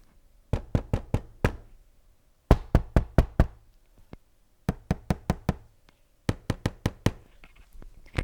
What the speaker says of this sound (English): And you can even hear the difference in the sounding of the plastic.